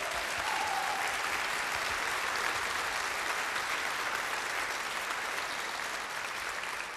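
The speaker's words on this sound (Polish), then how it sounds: "Wielkie brawa, tak jest." Concert audience applause at a live show celebrating a singer with a group: a full, sustained roar of many hands clapping, steady and loud throughout, tapering slightly at the end.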